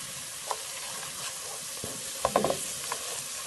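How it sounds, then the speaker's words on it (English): Curry and turmeric powder frying in a pot, a steady close sizzle with a few scraping stirs and light clinks of the utensil against the pot near the end, no talking. "extra curry and turmeric powder to burn a little"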